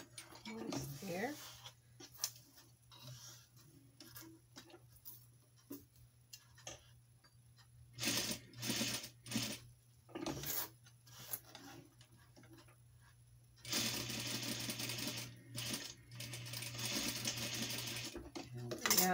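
A sewing machine runs in short ticking bursts and then a longer steady stretch while stitching nylon thread onto a wedding dress train, against a constant low hum.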